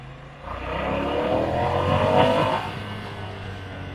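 A Ducati Scrambler Icon 800cc mid-size V-twin motorcycle accelerates on a test ride, its engine note rising and swelling over a few seconds before easing off, fairly close with no talk.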